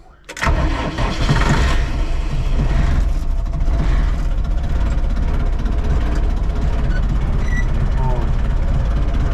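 A DongFeng 404G2 tractor's diesel engine cranks in frosty weather, catches and settles into a loud, steady rumbling idle close by, with someone speaking over the engine noise.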